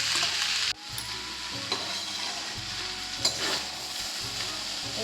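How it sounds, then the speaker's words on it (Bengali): Food frying in an electric kadai cooker is stirred with a utensil, giving steady close sizzling broken by scraping strokes against the pan, with one abrupt drop early on before the frying hiss continues. "নাড়াচাড়াটা করে নিচ্ছি এখন"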